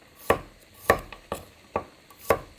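Five crisp knife chops slicing raw garlic on a cutting board, evenly spaced about half a second apart, close and clear with quiet gaps between strokes.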